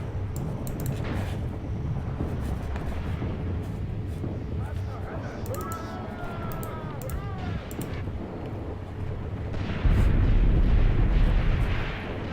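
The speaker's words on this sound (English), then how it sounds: "somebody's got to be calling in this artillery" Artillery fire in the WW2 tactical game Graviteam Tactics: Mius Front, with a continuous low rumble of distant explosions and a heavier blast near the end.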